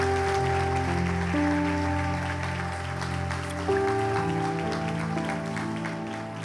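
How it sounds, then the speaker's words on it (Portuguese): A church congregation claps together in a steady, dense wash of applause with music sustaining underneath, moderately loud and continuous. "nós vamos aplaudir forte o nome de Jesus Cristo"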